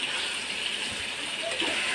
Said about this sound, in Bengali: দেখুন কি সুন্দর টকবক করছে